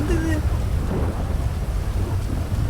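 Heavy video-game rainstorm with a low thunder rumble, dense steady hiss of rain filling the scene from start to finish, loud and close.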